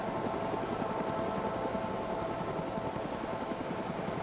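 Helicopter in the video game DayZ, near an island: a steady, continuous rotor drone with dense low chopping throughout, loud and unbroken for several seconds with no talk over it.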